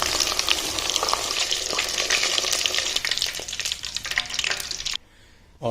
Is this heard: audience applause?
no